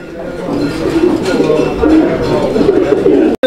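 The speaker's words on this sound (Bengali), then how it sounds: "কবুতর দেখেন" A pair of fancy pure Indonesian-colour pigeons cooing close by, soft low throaty coos repeating steadily in a continuous rolling murmur.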